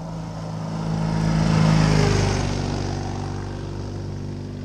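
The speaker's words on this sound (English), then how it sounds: "here comes our mate with the BMW Ural" A BMW Ural sidecar motorcycle rides past, its engine hum swelling to a peak and then fading as it draws away, heard alone without talk.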